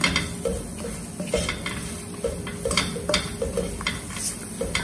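Potato fried rice with garam masala is stirred in a pan, a spoon scraping and clinking steadily against the metal over a soft sizzle.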